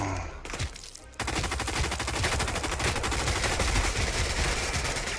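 Sustained rapid gunfire from the World War II shooter RAID World War II, with a brief lull and then loud, continuous machine-gun bursts filling the rest of the clip.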